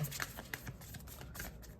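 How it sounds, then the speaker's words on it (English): Tarot cards are shuffled continuously, a dense riffling patter of overlapping card slaps close to the microphone, with no talking. "Hold on, let me shuffle again."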